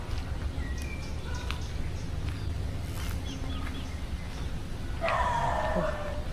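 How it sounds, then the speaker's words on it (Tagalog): A dog barks somewhere in a quiet preserved forest area with bamboo near Puerto Princesa, Palawan, as a few short, fairly distant yips over steady outdoor ambience, with birds chirping and a louder call near the end. "May kumakahol na aso."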